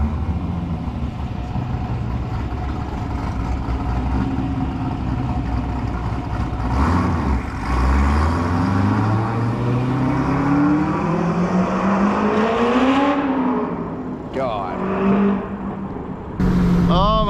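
A C5 Corvette engine runs steadily, then revs up with rising pitch sweeps, climbing and falling several times, loud and close throughout.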